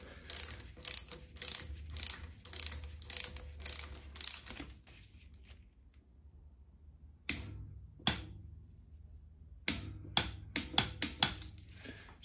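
A ratchet tightens a bolt on a Subaru Impreza 6-speed gearbox during a rebuild, with bursts of quick rhythmic clicks, a pause of near silence, then a few single clicks and another rapid run, close and clear.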